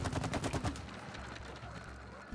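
Rapid bursts of gunfire from the goop gun in the video game It Takes Two, a quick run of repeated shots followed by lower rumbling game noise, moderately loud.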